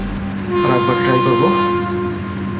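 A train stands at a railway station at the end of its line, giving off a steady, sustained horn-like tone that holds throughout while a voice talks over it.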